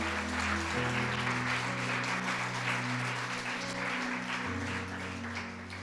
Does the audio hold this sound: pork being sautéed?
no